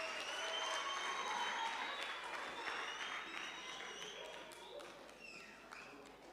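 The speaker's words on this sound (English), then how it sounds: "Let's give them a round of applause as they come" An audience at a school robotics challenge breaks into sustained applause, dense clapping at moderate distance that gradually fades over several seconds.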